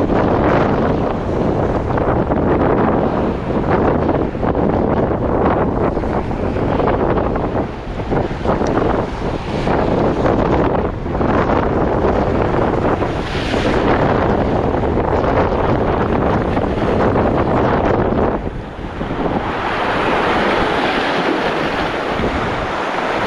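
Strong cold wind buffets the microphone in a constant roar, with rising sea surf washing and rolling underneath, loud and unbroken, no voices.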